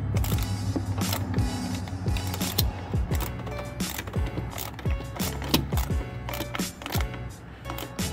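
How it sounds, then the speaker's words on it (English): Ratchet with a 10 mm socket and extension clicks steadily as it tightens a bolt on the plastic thermostat housing of a 2011 Toyota Tundra 5.7L, rapid close creaking pawl ticks continuing throughout. "you'll be needing an extension with a 10 millimeter socket. And we'll go ahead and tighten this one down."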